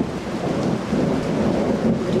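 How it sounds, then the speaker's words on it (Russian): Low, rolling thunder from an early-April thunderstorm rumbles on over a steady downpour, filling the whole stretch with a deep, continuous roar. "Гремит гром."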